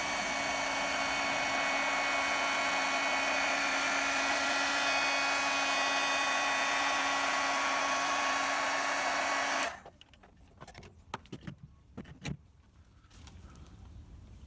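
A heat gun blows a steady, loud hiss while shrinking heat shrink tubing over wires on a Mercedes Sprinter camper van control panel, then cuts off abruptly, leaving faint handling clicks and taps.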